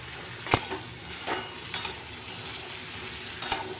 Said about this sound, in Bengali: এগুলো দিয়েও ভালো করে আমি কষিয়ে নেবো